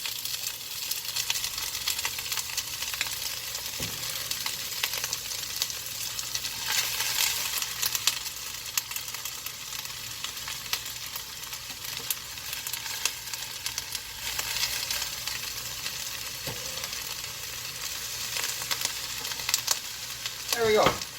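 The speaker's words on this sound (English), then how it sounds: "So we're just going to stir this, cook it down a little bit." Shredded cabbage sizzles steadily in a hot pot over medium heat for kielbasa cabbage soup, with a continuous broadband frying hiss and occasional scrapes and knocks of a spoon stirring, close and fairly loud throughout.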